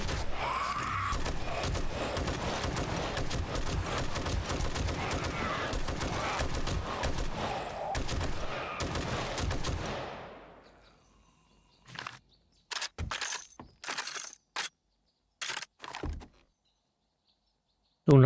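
A big gun firing in 7 Days to Die, a sustained rapid stream of loud shots that fades out, followed by several short separate bursts against quiet, with no talk over it.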